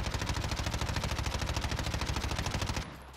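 Automatic rifle emptying a full magazine in the game Warzone, a rapid, evenly spaced stream of loud shots lasting nearly three seconds before cutting off abruptly.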